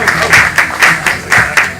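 A live show crowd claps in rhythmic bursts, roughly four loud swells of applause in under two seconds, close and energetic.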